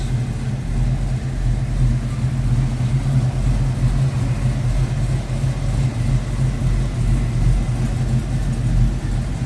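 A 1969 Chevrolet C10 pickup engine rumbles continuously with a deep, throaty Flowmaster exhaust note, steady and close, with no voices.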